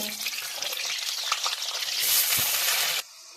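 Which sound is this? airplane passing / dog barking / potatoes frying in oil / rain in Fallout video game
potatoes frying in oil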